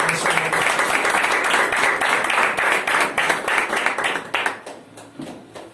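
A church congregation claps loudly in a dense burst that thins into scattered individual claps and fades out near the end.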